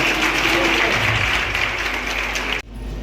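Loud, sustained audience applause at a Women's Power Day event, steady until it cuts off abruptly near the end.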